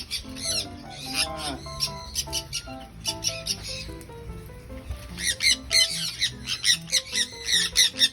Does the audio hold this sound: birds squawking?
yes